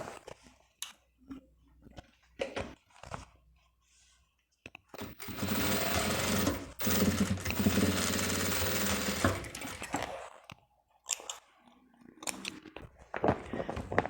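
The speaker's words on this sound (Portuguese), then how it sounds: "Agora nós vamos fechar as costuras aqui com o pé de máquina." A sewing machine closes the seams of a fabric pouch. Short bursts of stitching come first, then a long steady run of rapid needle chatter, then more brief bursts, all close by.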